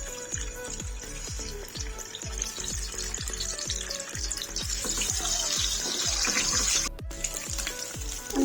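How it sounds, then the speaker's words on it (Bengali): Eggs frying lightly in hot oil give a continuous moderate sizzle with a fast, regular ticking pulse running through it, steady and close, with no one speaking. "ডিমগুলো আমি একটু হালকা করে ভেজে নেব।"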